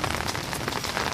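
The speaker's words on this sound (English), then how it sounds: "It's starting to rain again." Rain drums steadily and densely on an umbrella in a park, a close, continuous patter with no pauses.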